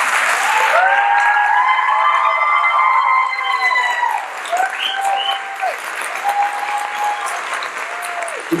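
Applause from an audience at an Arangetram classical dance debut, steady clapping blended with high, sliding whistles or cheers that fade in the latter half as the clapping thins.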